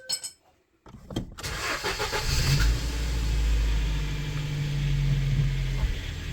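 A 2008 Ford Focus engine cranks after a brief pause, with a burst of starter whir followed by the engine catching and settling into a steady, loud idle hum close by, the rumble held for several seconds before cutting off.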